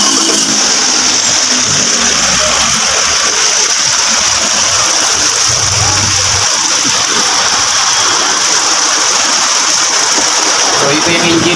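An MG ZS engine runs steadily at close range, a loud constant mechanical hum with a hissing high-end, while voices speak intermittently over it.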